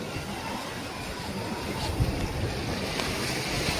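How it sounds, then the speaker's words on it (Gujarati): Sea waves surge and wash steadily along the Gujarat coast, a loud, continuous roar mixed with heavy wind buffeting the microphone. A few faint thuds rise above the churning water, and no one speaks. "દરિયાના મોજા એટલા ભયંકર આવે છે ને."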